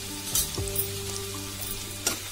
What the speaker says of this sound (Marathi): हिंग टाकणार आहोत,